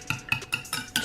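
Eggs are lightly beaten for brownie batter, a utensil clinking against the bowl in about five quick, even strokes, close and clear, with no talk.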